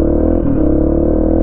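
A Yamaha XTZ125 motorcycle engine gives a quick throttle blip during a downshift, a loud close rumble that lifts briefly in pitch.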